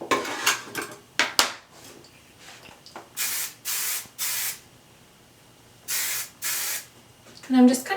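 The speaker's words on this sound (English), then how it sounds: "I'm just kind of pushing up as I spray to help that hair even more have some extra volume" Several short bursts of aerosol hairspray hissing close by, a quick cluster followed by longer sprays, with light handling noises between them.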